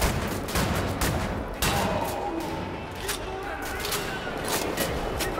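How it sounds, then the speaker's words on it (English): Rapid gunfire from Nazi soldiers in the shooter game Wolfenstein: The New Order, dense overlapping bursts of shots and impacts running the whole stretch at steady loudness under a busy game mix. "There's Nazis shooting at you, did you say?"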